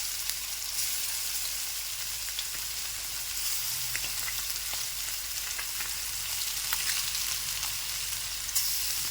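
Chicken pieces fry in a pan over a gas flame, a steady close hiss of sizzling oil with scattered pops and crackles running throughout, no voices.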